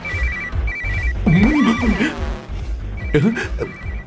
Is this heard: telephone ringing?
yes